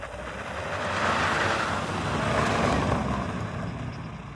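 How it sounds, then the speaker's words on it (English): A Mahindra XUV 3XO turbo engine accelerating, a broad rising and falling roar with road and wind noise filling the cabin, steady and fairly loud with no talking. "You put your foot down and the turbo starts doing its thing."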